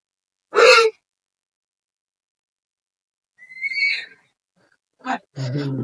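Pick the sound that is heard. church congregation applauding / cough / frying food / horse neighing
horse neighing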